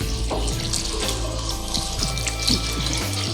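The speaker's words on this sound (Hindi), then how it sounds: "ये मैं इसमें इनको पानी में डिप करने लगी" Soft fried dahi bhalay lentil dumplings being dipped into a bowl of water, giving a steady close-up splashing and trickling wash with faint clinks, no talking.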